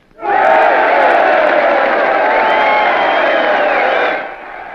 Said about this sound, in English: Listen to them yell, the empty-headed idiot's yelling at empty words.